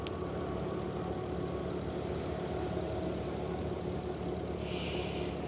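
A Citroën BX GTI 16 engine runs at a steady idle, a loud continuous mechanical drone close by, with a brief higher hiss toward the end.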